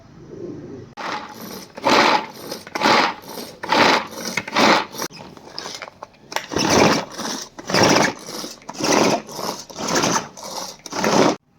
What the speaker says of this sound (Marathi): कांदा आणि टोमॅटो मी कापून घेतलेला आहे, तो मी आता बारीक करून घेणार आहे.